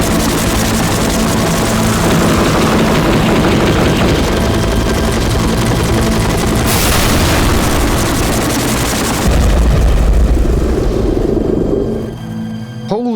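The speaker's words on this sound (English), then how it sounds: "that helicopter was loud" In the video game Broken Sword 2, a helicopter flies overhead: a loud, heavy rotor roar with a deep throbbing engine drone dominates throughout, swelling and then fading away near the end.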